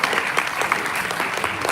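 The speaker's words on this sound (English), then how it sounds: "Una lot clap for the minister." Audience at a town hall meeting on sexual and gender-based violence claps for the minister, dense, loud applause with some sharper individual claps standing out across the short burst.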